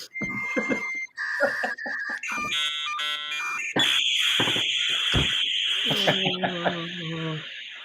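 An old dial-up internet modem connects: a dial tone and rapid beeping tones give way to harsh screeching handshake chirps and a wash of hissing static, loud and alone, shifting pattern every second or so.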